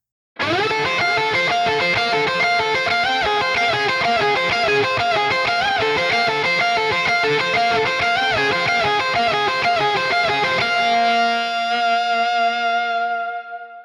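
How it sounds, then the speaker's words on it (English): Harmonized electric guitar lead line through an Archetype Misha Mansoor laser pedal on a subtle pitch preset, a steady run of sustained, effect-laden notes with shimmering doubled pitch that rings out and fades at the end. "Now let's hear a harmonized lead line using a subtle pitch preset."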